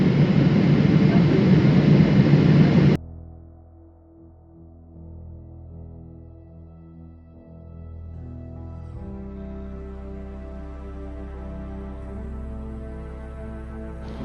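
Airliner cabin just before landing at Dubai airport, a loud broadband roar for the first few seconds that abruptly drops to a lower steady engine hum with a faint droning tone, continuing evenly.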